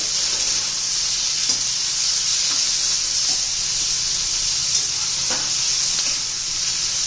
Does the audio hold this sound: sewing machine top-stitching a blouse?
no